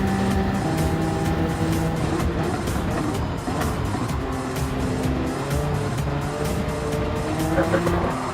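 Racing cars roar continuously in a video game prototype race, engines droning and shifting pitch with tire squeal and skidding throughout, loud and steady with no pauses.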